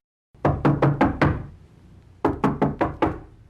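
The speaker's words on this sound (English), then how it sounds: "Mary walked out of her room and knocked on Martha's door." Someone knocks on a castle bedroom door in two close, crisp sets of about five evenly spaced raps each, with a short pause between the sets and no voices.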